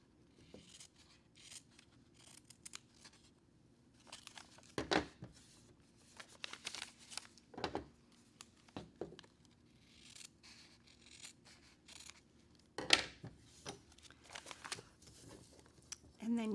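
Scissors snip through fabric and quilting foundation paper in a quiet room, a series of short, close, crisp cuts at irregular intervals, with faint rustling between them.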